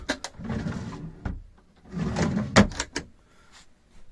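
A drawer in a Fleurette Migrateur profile motorhome on a 3.0 HDi base slides open and shut with soft rolling rumbles and a few sharp close-range clicks and knocks, in a quiet interior with no talking.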